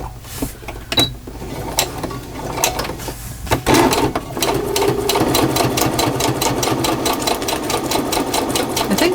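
A sewing machine stitching a tea bag holder for a junk journal, starting with a few separate thumps and clicks, then settling into a steady, loud, rapid needle rhythm up close.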